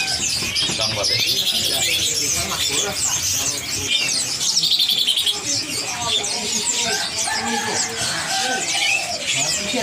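Sooty-headed bulbuls chirp in a busy bird market, mingling with many other birds' tweets and coos in a dense, continuous chorus of close calls, with people talking.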